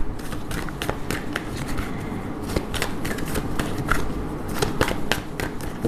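Angel guidance oracle cards shuffled continuously up close, a steady dense riffling and flicking of card stock that runs the whole time with no pauses.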